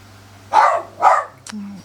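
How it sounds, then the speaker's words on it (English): A dog barks twice, loud and close, indoors in a home craft room, followed by a short whine. "Bear with me, let me just let that dog out"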